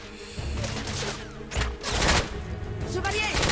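Gunfire in the video game The Order 1886 comes as several sharp bursts and a longer volley over game noise, with a voice talking in between.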